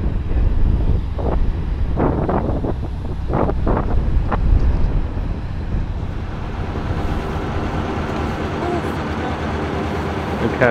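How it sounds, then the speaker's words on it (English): Strong wind buffeting the microphone beside a narrowboat with a heavy low rumble and gusty roar, a few brief knocks early on, no clear voices. "Touch windy."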